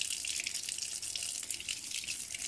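Cold tap water runs steadily over eggplant seeds held in a strainer, a continuous close splashing hiss with no one talking.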